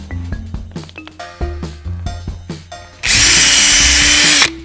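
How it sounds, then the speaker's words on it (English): A power drill whirs in short repeated bursts, each rising in pitch, then runs in one longer steady whine with a harsh grinding edge while pre-drilling holes in scooter wheels. "We're pre-drilling holes so the teachers can put the bumpy wheels on"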